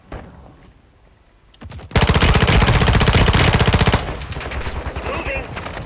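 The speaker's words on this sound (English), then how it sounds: "Taking effective fire." Rapid automatic gunfire in Call of Duty: Modern Warfare 2 Warzone, a dense loud burst of rounds after a quieter stretch, then continuing at a lower level with game sound effects.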